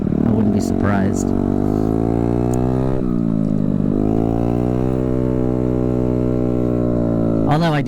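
A Honda Ruckus scooter's small engine drones steadily at close range, a rough lawnmower-like buzzing idle with a brief rev near the start and another rising rev at the end.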